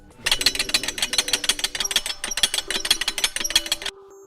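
A metal Kentrol windshield hinge on a Jeep rattling in a rapid, clattering series of metallic knocks during a shake test, close and continuous for about four seconds before stopping.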